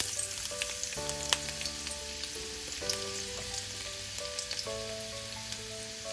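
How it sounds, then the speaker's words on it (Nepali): Finely chopped garlic and ginger sizzle steadily in a spoonful of hot oil, a soft continuous frying crackle close by with music playing underneath and no voices. "तेल तातेपछि मैले यसमा राखेँ 1 ठुलो चम्चा जति मसिनो गरी काटेको लसुन र अदुवा।"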